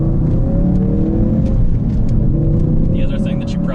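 A Ford Focus RS accelerates hard, its engine note climbing in a loud, close, sustained roar, with a brief voice near the end.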